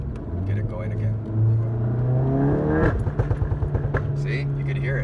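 A Volkswagen GTI MK7 with an aftermarket Top Speed Performance Pro 1 catback exhaust revs, the engine note climbing and falling before a string of sharp crackles and pops, close and loud.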